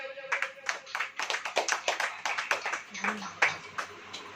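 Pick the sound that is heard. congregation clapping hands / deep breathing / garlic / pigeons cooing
congregation clapping hands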